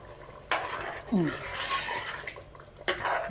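A spoon stirs a pot of prawn and drumstick curry in a few separate scraping strokes, each a short scrape against the pot, with a faint background murmur in between.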